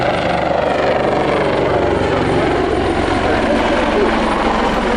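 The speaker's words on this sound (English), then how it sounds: "Now you say it's an attack maritime helicopter." A maritime attack helicopter's steady rotor and engine roar at an air show, loud and continuous, with a faint voice mixed in beneath the drone.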